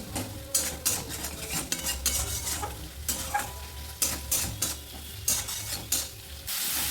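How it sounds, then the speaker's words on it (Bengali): A spice masala is stirred and sautéed in a pan over a medium flame, a utensil repeatedly scraping and clattering against the metal over a continuous close sizzle. "মিডিয়াম ফ্লেমে মশলা খুব ভালোভাবে কষিয়ে নিতে হবে"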